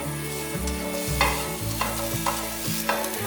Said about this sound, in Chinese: 用中小火慢慢的炒， 把雪白菇炒至变色变香。